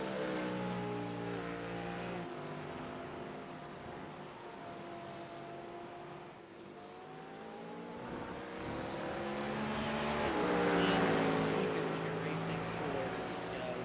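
Simulated race car engines in iRacing howl and shift pitch as cars jostle around a slower lap car on the Brazil circuit, layered engine tones rising and falling, with commentators talking over them.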